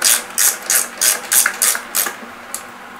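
Ratchet wrench tightening the bolts on a Fox Nude rear shock of a Scott Spark RC mountain bike, a close, crisp series of about seven clicking ratchet bursts in steady rhythm, fading to a final lighter click, with no talking.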